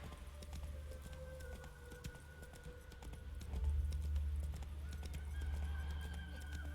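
Roach, the horse in The Witcher 3, gallops in a steady, rapid clip-clop of hooves under a low rumbling game soundtrack, growing louder partway through, with a brief whinny.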